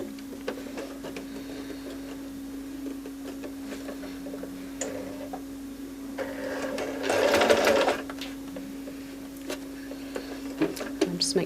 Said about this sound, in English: I'm going to sew a few stitches just to start the end of the buttonhole.